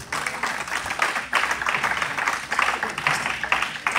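A church congregation applauding Jesus during a service gives steady, lively clapping from many hands in rolling waves, filling the room for the full few seconds.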